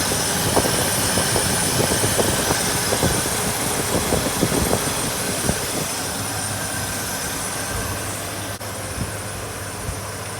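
Engine of a 1989 Ford F-150 XLT Lariat pickup running smoothly, a steady idling rumble with a rapid even ticking pulse, loud and close throughout.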